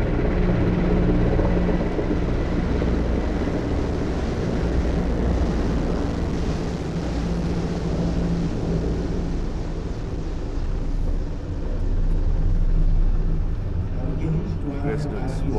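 A helicopter formation flying in an inverted wine glass shape over the Republic Day parade at Rajpath in 1996 makes a steady, heavy rotor rumble that swells and fades slightly, while a commentator speaks over it.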